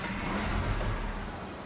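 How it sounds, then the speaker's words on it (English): Snowrunner in-game vehicle engine turning over and settling into a steady low rumble, close and continuous for under two seconds with no talk. "See the engine start."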